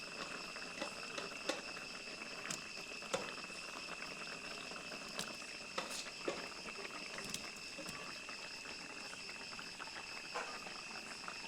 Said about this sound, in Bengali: এটিকে আরও 5 মিনিট এখানে ফুটিয়ে নিচ্ছি যাতে জলটি কমে যায়।